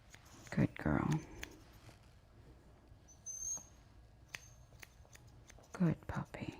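Scissors snip through a dog's fur during a grooming trim, a few quick close cuts heard in short bursts, with soft speech and handling noise between them.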